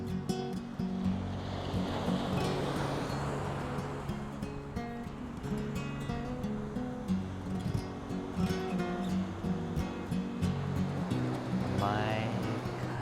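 Ocean surf washes steadily at a seaside wedding ceremony, a constant broad rush of waves close by with a low hum beneath and a few faint distant sounds.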